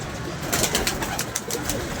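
A pigeon coos in soft repeated pulses against a noisy outdoor background, fairly close and moderately loud.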